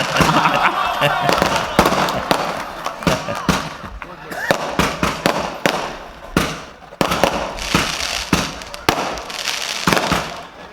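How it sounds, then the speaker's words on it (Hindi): Fireworks crackle and pop at an outdoor evening poetry gathering on an Eidgah ground in Jogeshwari East, Mumbai, a dense rapid series of sharp bangs and bursts going on continuously while people talk over them. "क्योंकि चांद जब देखते हैं तो ऐसी आतिशबाजी होती है"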